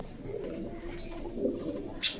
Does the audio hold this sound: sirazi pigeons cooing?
yes